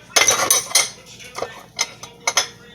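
Metal skillets are picked up and set down, giving a quick cluster of bright clanks and clinks followed by several lighter knocks spaced apart, close and fairly loud with no talking.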